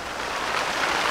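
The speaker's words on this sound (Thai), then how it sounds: "โอ้ฝนตกแล้วครับคุณผู้ชม" Rain falls outdoors during a Thai cooking session, a dense, steady hiss of drops that holds evenly through the moment with no one speaking.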